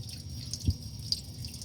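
Fuel drips slowly from the fuel line of a Nissan Pathfinder that cranks but won't start, a couple of faint, isolated drops over a low steady hum, with no talk.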